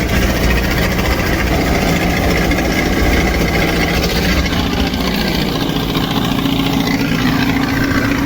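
A loud, steady combine harvester engine drones continuously at idle, a heavy rumbling machine running close up with constant vibration and no other sounds.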